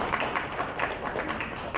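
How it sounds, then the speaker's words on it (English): Audience at a panel discussion on customer experience clapping to welcome a panelist, a steady patter of applause from a modest crowd, moderately loud and with no talk over it. "a round of applause for him"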